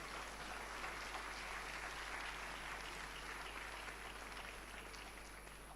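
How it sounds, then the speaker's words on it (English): Steady applause from an audience at a Bank of Ghana ceremony in Accra marking the Ghana cedi's 60th anniversary, a continuous, fairly distant wash of clapping. "A round of applause."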